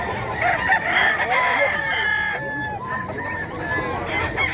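An iron cock rooster, a banded fighting-cock breed, crows at the Bocaue pet market amid other roosters' crows and clucking, with a busy, noisy market background.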